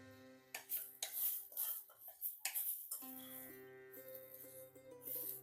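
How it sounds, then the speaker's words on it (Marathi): A metal spoon scrapes and knocks against an iron kadhai as dry roasted coconut is scooped out, a few clanks followed by steady scraping, close and clear with no talk. "आता खोबरं आपण काढून घेऊया."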